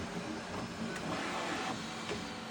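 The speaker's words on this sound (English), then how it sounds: "this is my Bambu X1 carbon 3D printer" A Bambu Lab X1 Carbon 3D printer runs with a steady broadband mechanical whir, fans and motors humming continuously, with faint periodic ticks from moving parts.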